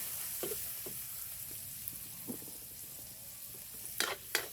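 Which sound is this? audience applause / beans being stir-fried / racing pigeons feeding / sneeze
beans being stir-fried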